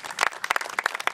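An audience claps for painters at a community event, a short burst of scattered, fairly close handclaps with no voices heard.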